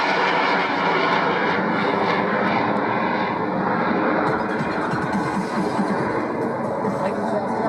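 Blue Angels jets roar loudly and continuously overhead at the 2016 Bethpage Air Show at Jones Beach, with voices faintly underneath.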